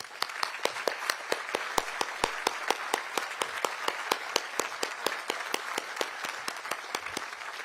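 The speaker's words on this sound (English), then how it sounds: "would you please stand for a round of applause?" An audience at a South Carolina Teacher of the Year announcement applauds for the judges, with a fairly quiet, even patter of many hands and a few sharper individual claps standing out throughout.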